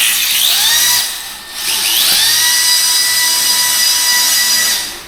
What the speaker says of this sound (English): This motor and this ESC combo in here feel great.